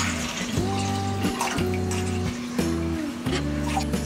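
Water pours steadily into a kitchen vessel, a close, continuous splashing rush with a ringing tone that shifts as the vessel fills.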